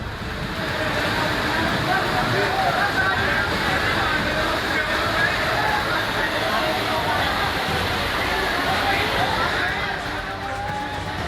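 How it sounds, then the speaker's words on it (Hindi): Loud, steady rush of floodwater surging and sloshing through a street in heavy rain without pause, with faint crowd voices buried beneath the torrent. "आफत की बारिश के बीच गली में ड्रम और बाइक पानी के प्रवाह के साथ बहते चले गए"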